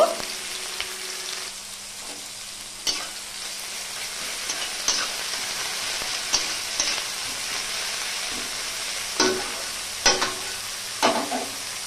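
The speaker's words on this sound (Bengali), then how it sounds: "সরিষার তেল গরম হয়ে গেল, আমি পেঁয়াজ কুচি দিয়ে দিচ্ছি। ভালো করে আমি ভেজে নেব।" Chopped onions sizzle and fry in hot mustard oil, a steady close crackle broken by occasional sharper stirring scrapes and spatters.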